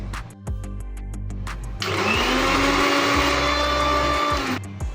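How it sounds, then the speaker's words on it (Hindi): A kitchen blender pureeing mango whirs up loudly and runs steadily for a few seconds after brief starts and stops, close and dominant. "मैं इसे एक ब्लेंडर जार में ट्रांसफ़र करके इसकी प्यूरी बना लूँगी।"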